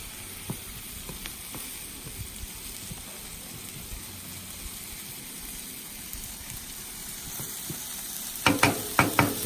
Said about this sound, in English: So she's going to be ready for some good sear